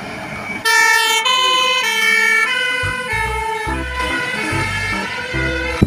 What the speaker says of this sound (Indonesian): ada mobil pemadam kebakaran lagi.